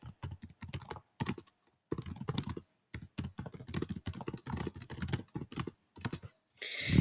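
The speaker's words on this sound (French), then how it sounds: "je peux ici taper mon message" Someone types a chat message on a computer keyboard, close and clear: quick bursts of clicky keystrokes separated by short pauses, with no talk.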